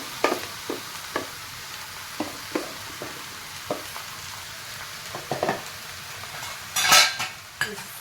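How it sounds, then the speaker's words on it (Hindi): Red spinach (lal chaurai) leaves fry in a kadhai with a steady sizzle, punctuated by repeated spatula taps and scrapes against the pan and a louder burst of crackling near the end. "चलिए अब जो थोड़े से बचे हुए रह गए उनको भी डाल देते हैं पूरी अपनी कढ़ाई में"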